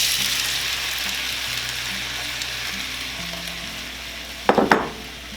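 Browning meat sizzles steadily in a pan with a bright, hissing crackle; near the end, tomatoes drop in with a couple of sharp splashing bursts followed by renewed sizzling.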